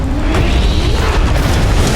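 A heavy, continuous blast roar rolls through an Earth Defense Force 4.1 fight, loud and close, with a low rumbling body and no voices.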